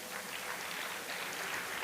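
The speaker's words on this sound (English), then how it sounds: "A round of applause for LCCI, ladies and gentlemen" An expo audience claps for a brief moment, a faint, uniform hiss of many hands heard from a distance.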